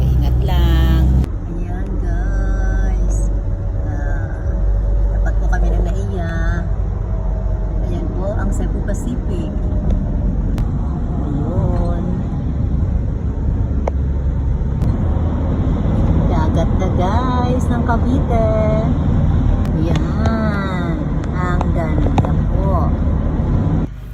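A car drives along a road in light Saturday traffic in Cavite, its steady engine and road rumble running throughout under nearly continuous talking from people inside.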